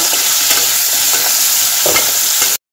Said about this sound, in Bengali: আলু একটু লবণ আর হলুদ দিয়ে ভেজে নেব